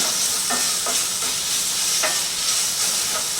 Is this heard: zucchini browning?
yes